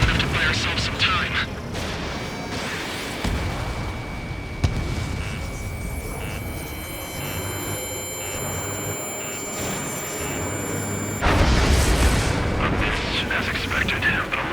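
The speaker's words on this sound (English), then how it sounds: "Some kind of energy weapon. No, it's a railgun." A railgun energy weapon in the Ace Combat 7 combat flight game fires in heavy booming blasts, with a loud burst near the end over a constant rumble of battle noise.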